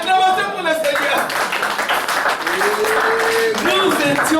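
A church congregation breaks into clapping and applause in acclamation of the Lord, a busy rattle of hands with voices rising and calling out over it.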